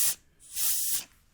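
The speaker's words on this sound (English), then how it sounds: "you're not getting an accurate reading, and you're just draining tire air pressure out" Air hissing out of a car tire valve as a pressure gauge is pressed on, two short sharp bursts of spray-like hiss close up, the second longer.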